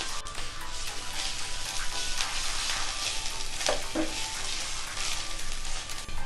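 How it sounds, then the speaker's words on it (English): Onion with ginger garlic paste frying in a pan for egg curry, with a steady close sizzle throughout and brief scraping stirs partway through. "When onion is half done, then add ginger garlic paste. Add ginger garlic paste. Mix well."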